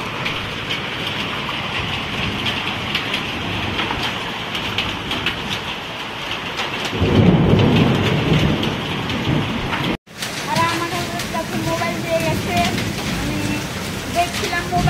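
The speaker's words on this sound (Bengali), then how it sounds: "হঠাৎ করে দেখছি বৃষ্টি শুরু হয়ে গেল" Heavy rain pours steadily during a thunderstorm, with a louder rumbling surge of thunder partway through, then a brief cut before the downpour continues with sharper patter on surfaces.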